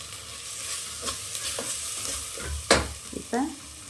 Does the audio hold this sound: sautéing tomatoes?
yes